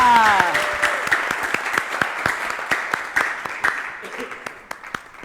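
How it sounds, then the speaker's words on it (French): Audience applause with scattered individual claps at a live show in Madagascar, loud at the start and thinning toward the end, mixed with a fading voice and crowd noise. "On accueille tout le monde, bien et fort, on applaudit bien fort"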